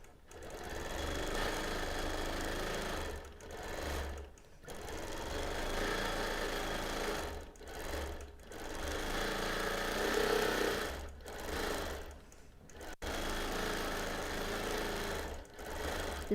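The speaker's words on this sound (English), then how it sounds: "So I am now going to be stitching in regulated mode" Quilting sewing machine running in regulated mode for free-motion edge-to-edge stitching, a steady close mechanical whir in long runs broken by several brief pauses, with no talk.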